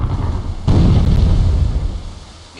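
A ship's cannon broadside in the naval trading game Port Royale 2 sounds as a close, heavy rumbling boom that hits abruptly and rolls on before fading over about two seconds.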